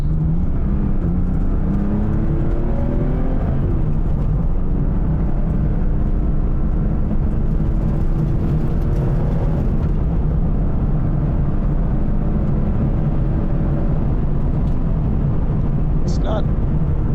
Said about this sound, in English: Yep, sounds like a 911.